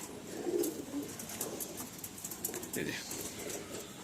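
Caged pigeons, among them a red Madras hen and a Fulshira hen, give soft low cooing calls close by, faint and intermittent under background noise.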